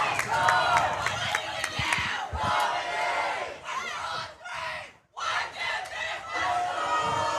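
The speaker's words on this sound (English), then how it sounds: "The crowd getting into it here at Starlight Stadium after an incredible display of power." A stadium crowd roars and cheers loudly at a rugby match at Starlight Stadium, a dense, sustained wall of shouting that briefly dips before surging again, with a commentator's voice mixed in.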